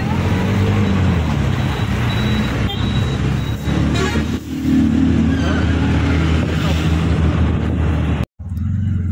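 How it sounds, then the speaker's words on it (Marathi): Loud, continuous road traffic with trucks rumbling past close by, engines droning steadily with a brief horn toot, the roar cutting off abruptly near the end. "हे ट्रक कशामध्ये चालवतात बघा,"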